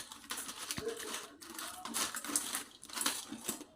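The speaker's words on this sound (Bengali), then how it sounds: "কাঁকড়ার সাথে নুন আর হলুদটা মিশিয়ে নিচ্ছি" Crabs are mixed by hand with salt and turmeric, producing soft, close squelching and crunchy shell rustles in uneven bursts.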